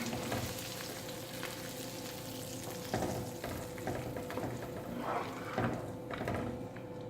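Hot oil sizzles steadily throughout as tempering is added to karhi, with occasional clinks and stirring noises breaking in over the crackle.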